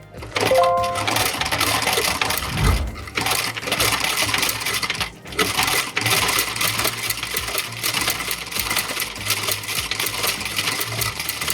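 A sewing machine, worked by foot pedal, stitches basic embroidery for beginners in a steady, loud, rapid mechanical whir that runs almost without a break, apart from a brief pause partway through.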